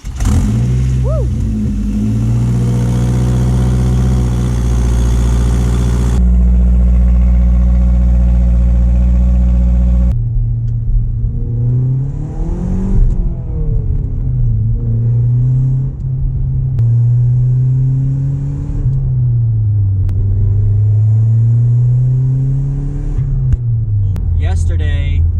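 A Mazdaspeed3 engine runs after a jump-start from a dead battery, a loud, steady rumble with some rising revs. Someone talks over it for much of the time.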